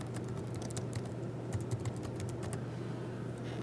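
Quiet keystrokes tap on a computer keyboard while text is entered, a loose irregular patter of light clicks in short bursts over a low steady hum, fairly close and soft, with no one speaking.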